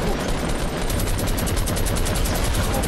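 Rapid gunfire from a Fortnite match rattles continuously throughout, a dense run of shots without pause, loud and close in the game mix.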